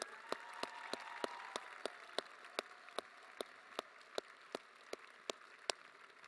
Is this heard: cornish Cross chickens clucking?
no